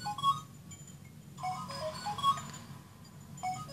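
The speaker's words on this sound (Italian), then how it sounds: "Squilla il telefono." A telephone rings in the LBX Little Battlers Experience video game, two short electronic ring bursts sounding over a low, steady background hum, with no one speaking.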